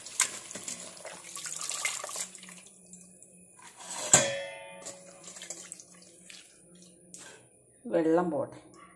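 Hibiscus leaves are rinsed under running tap water, with splashing and trickling in bursts, a louder gush near the middle and another at the end, while a person talks.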